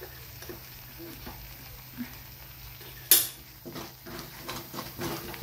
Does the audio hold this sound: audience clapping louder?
no